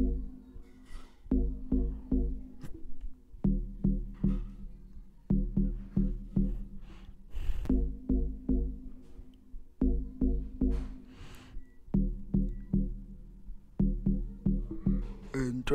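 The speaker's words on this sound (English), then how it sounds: "not the bass, but kind of like the bass melody" An amapiano bass melody rolls through a log-drum beat, a deep pitched line repeating in steady bar-long phrases with short gaps, loud and alone with no voices.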